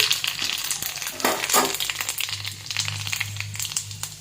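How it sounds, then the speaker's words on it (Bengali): Three dried red chillies and Bengali five-spice crackle and sizzle in hot oil for a tomato, aamsatta and date chutney, with sharp spitting bursts and stirring scrapes. "ফোড়নে 3টে শুকনো লঙ্কা আর দিয়ে দিচ্ছি 5 ফোড়ন"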